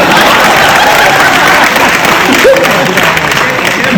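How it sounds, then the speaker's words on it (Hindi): A large audience at a poetry stage show claps loudly and continuously in a dense, close wash of applause, with a brief voice breaking through near the end. "हमें पता नहीं था इतनी ताली आप लोग बजाएंगे"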